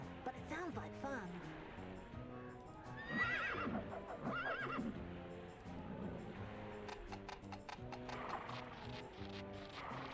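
Horse hooves clip-clop at a steady trot while riding in a jousting video game, with neighs and whinnies breaking through, music and a voice talking over the whole stretch.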